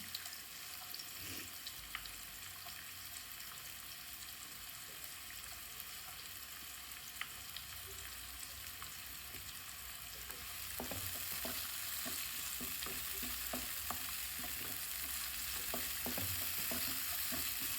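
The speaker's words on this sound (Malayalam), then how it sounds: "നമ്മൾ ഇതിൽ എന്തായാലും ഉള്ളി വഴറ്റിയാണ്." Onions sautéing in a pan for a mandi dish: a steady, soft sizzle with a stirring spoon's scrapes and clicks, growing louder and busier in the second half, no voices.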